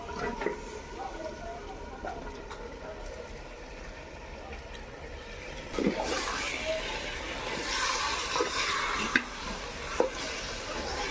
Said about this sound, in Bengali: মাংসটা যে ম্যারিনেট করে রেখেছিলাম ওটা দিয়ে দেবো।